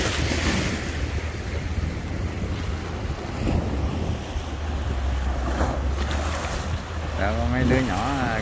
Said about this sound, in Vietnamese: Lâu lâu có cái sóng bự gì.